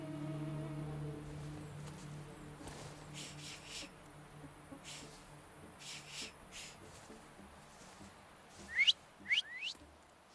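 Short rising whistles in The Thaumaturge, a few quick bright notes near the end over a faint game ambience with a low hum.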